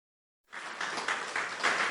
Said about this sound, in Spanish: Aplauda su nombre en esta mañana.